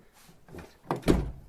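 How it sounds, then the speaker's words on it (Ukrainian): A Ford Focus car door swings shut after lock and latch repair, giving a soft approach followed by one solid, close thunk that decays briefly, with no talk. "Дверка закривається чудово."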